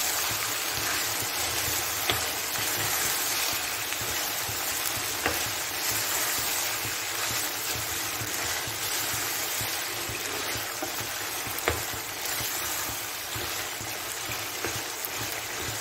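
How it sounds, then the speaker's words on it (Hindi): Mutton pieces fry in hot oil, giving a steady close hiss and crackle that continues unbroken, with occasional sharper pops and no voices. "तेल में ही अच्छा फ्राई कर लेंगे गोश्त को"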